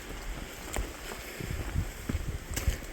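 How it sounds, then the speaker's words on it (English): Gusty wind on a mountain trail in Byeonsanbando National Park, South Korea, rumbling and buffeting the microphone with a low roar and a few stronger gusts, with no talking. "Alright, now it's windy."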